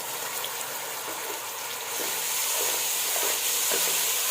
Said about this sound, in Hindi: चंद सेकंड के लिए मैं इसको फ्राई करूँगी